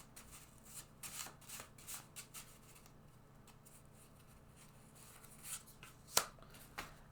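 Tarot cards are drawn from a deck, giving soft quiet shuffles, slides and taps close by, with a sharper card snap near the end and no talking.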